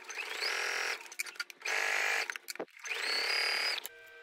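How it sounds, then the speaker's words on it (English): A sewing machine stitches quilt blocks together with a quarter-inch seam in three steady whirring bursts, each close and clear with short pauses between them. "I'll sew the two birdhouse blocks together with a 1/4 inch seam."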